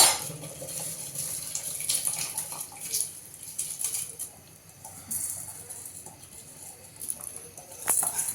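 Water pours from a tap or vessel into a pot of palak pulav in a village kitchen: a fairly loud, continuous splashing with a few clinks of the pot and no speech.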